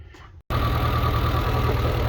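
Suzuki Samurai engine running after a throttle cable replacement: a brief gap, then a steady, close idle with an even low rumble.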